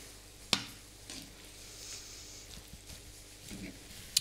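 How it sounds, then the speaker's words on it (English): Savoy cabbage stirred in a pan gives a faint, steady sizzle with soft scraping strokes and a few sharp utensil clicks against the pan, all quiet and close. "One more mixing."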